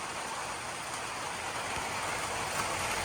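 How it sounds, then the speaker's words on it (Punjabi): Heavy rain pouring steadily in a mountain area among low clouds, a dense continuous hiss with no pauses across the whole stretch and no voices. "ਪੂਰਾ ਮੀਂਹ ਆ ਗਿਆ।"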